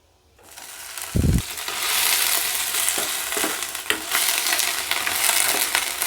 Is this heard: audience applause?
no